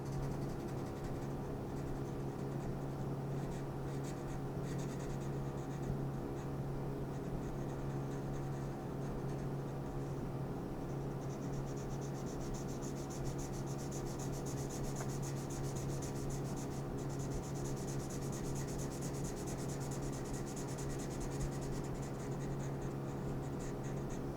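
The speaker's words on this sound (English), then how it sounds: "let's just actually color this whole shape in." A pencil or marker colors in a shape on paper, making a steady, faint, continuous scratching and rubbing with no breaks over a low background hum.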